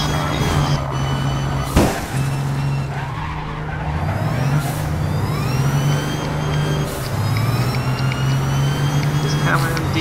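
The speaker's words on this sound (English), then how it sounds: "Sounds like my car almost shifts gears." A car engine in the racing video game APB Reloaded drones steadily, its pitch dropping and climbing again as if shifting gears, with tire squeals and other cars nearby while people talk over it.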